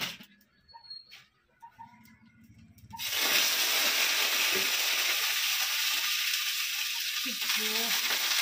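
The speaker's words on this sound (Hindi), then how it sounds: "और मम्मी इधर डाल दी सब्जी" Vegetables hit hot oil in a home kitchen pan and burst into a loud, steady sizzle that starts abruptly after a few quiet seconds of small clatter and holds strong to the end, with faint sounds around it.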